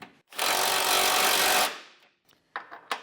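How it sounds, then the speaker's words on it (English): Power tool zipping down the top nuts of a Curt trailer hitch receiver with a 15mm socket on a 2025 Buick Enclave, one loud sustained burst of over a second, followed by a few short clicks and knocks. "we'll just do the same thing, zipping these top nuts down"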